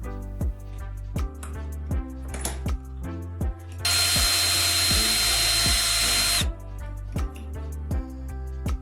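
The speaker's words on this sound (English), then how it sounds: "Drill a hole in the center of each piece to fit a screw." A power drill bores a hole through a cut piece of hot glue stick in one continuous whining burst lasting a few seconds, set against rhythmic background music.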